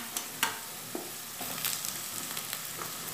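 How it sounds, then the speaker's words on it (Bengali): Potatoes frying in a pan while ridge gourd is added, with a continuous hiss and scattered clicks and taps of stirring, close and moderate, no talk. "আলুটা আমার প্রায় ভাজা হয়েই এসছে, এরপর আমি এর মধ্যে ঝিঙ্গেগুলো দিয়ে দেব।"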